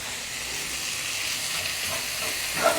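Tomato and spice masala sautéing in a pan for an egg pepper fry: a steady, even sizzling hiss throughout, with a small stir or spatter near the end.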